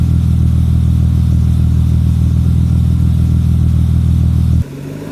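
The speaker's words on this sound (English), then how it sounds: "it's nice as an engine sound" A steady, loud engine drone hums continuously for several seconds, then abruptly drops off into a quieter idle tone at the end.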